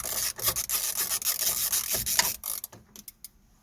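Ratchet undoing a small bolt on a Renault Clio door mirror, quick repeated clicking and rubbing strokes close to the microphone, trailing off into a few isolated clicks.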